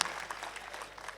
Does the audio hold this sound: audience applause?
yes